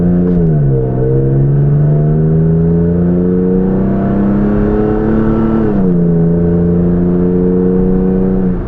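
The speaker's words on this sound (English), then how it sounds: "the sound clips of the MagnaFlow Overland exhaust" A 2022 third-gen Toyota Tacoma with a MagnaFlow Overland exhaust accelerates hard from a stop, a loud, steady, droning engine and exhaust note that climbs in pitch, dips briefly at a shift near the middle, then holds and rises again, with no talk.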